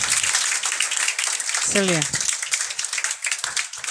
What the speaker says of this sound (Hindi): ताली हो जाए एक बार जोरदार